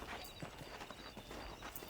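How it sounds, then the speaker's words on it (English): Horse hooves clip-clopping in the Western video game Red Dead Redemption, a steady, fairly quiet trot of repeated hoof falls on a ranch over a low background bed. "that's my new horse"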